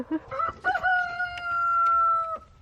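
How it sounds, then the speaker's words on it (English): A single rooster crows close by, a few short clucking notes leading into one long, drawn-out, sustained call that ends abruptly. "That's that rooster right there."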